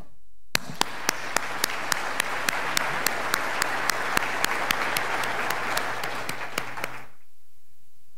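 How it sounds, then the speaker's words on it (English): A large crowd at a 2021 Wilmington College ceremony breaks into sustained applause that carries on steadily for several seconds and then stops abruptly, with a few sharper claps standing out. "Now we can applaud."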